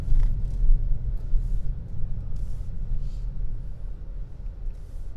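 A 2020 Skoda Octavia RS 245 petrol engine in sports mode, heard from inside the car as a steady, loud low-pitched rumble and drone while it accelerates down an open road.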